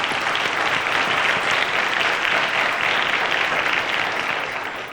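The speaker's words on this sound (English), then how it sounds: "Ladies and gentlemen, a round of applause to our contestants." An audience applauds the quiz contestants on a televised quiz show. The clapping is dense, even and unbroken, heard alone for about five seconds before it begins to fade.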